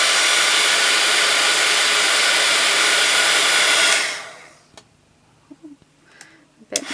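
A heat tool blows a loud, steady stream of hot air onto a Foamiran foam flower petal for about four seconds, then shuts off and leaves faint handling clicks and taps.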